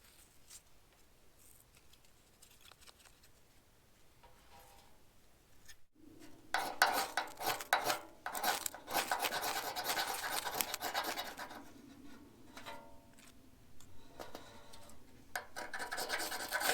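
Fire-starting tape from a strip roll is scuffed up by hand outdoors at a winter bushcraft camp, giving close, faint scratching and rubbing bursts that turn louder and more continuous midway before tapering off.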